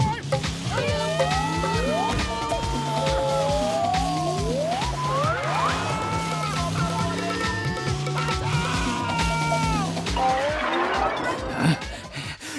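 A cartoon motorbike approaches with a whining, rising engine over a busy animated soundtrack of swooping effects and music, building toward a splashy burst near the end.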